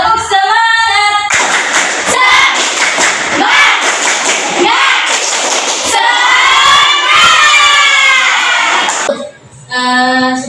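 A school class does a spirit clap together, with loud, close, rhythmic bursts of hand claps mixed with the children's chanted voices, ending in a brief pause before more chanting.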